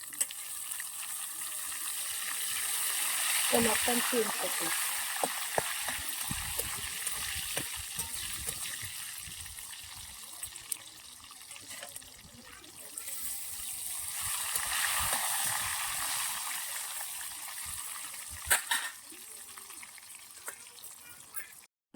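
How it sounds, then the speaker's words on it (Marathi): Banana slices frying in hot oil as turmeric-salt water is splashed in a little at a time, giving a steady loud sizzle with bursts of crackle and spatter throughout; a voice speaks briefly. "मी हळद मिठाचं पाणी करून घेतलेलं ना ते थोडंसं थोडंसं टाकत आहे"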